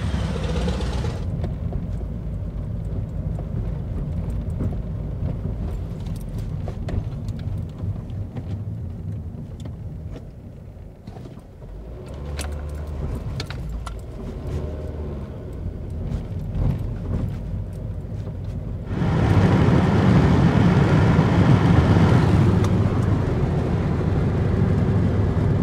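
A car drives along a rural road from Isleton toward Walnut Grove, giving a steady low rumble of road and engine noise that swells louder near the end, with no talking.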